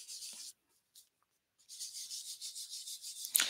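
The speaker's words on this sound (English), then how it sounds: "Rub it." Ink color rubbed onto paper while making a flip book, heard as close, dry, rhythmic scrubbing strokes with a short pause in the middle.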